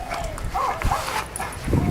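Sled dogs from a championship team vocalize outdoors before sled-pulling training, with short barks and whimpering yips mixed among nearby voices and ambient noise.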